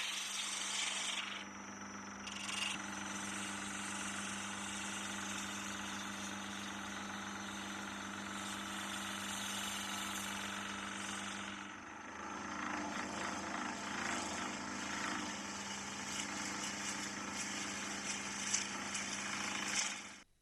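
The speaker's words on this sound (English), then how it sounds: "After initial profiling with the roughing gouge, a spindle gouge should be used to refine the shape." A wooden handle being shaped on a lathe with a spindle gouge: a steady motor hum runs under continuous scraping and cutting noise that grows rougher and busier partway through, close up with no talking.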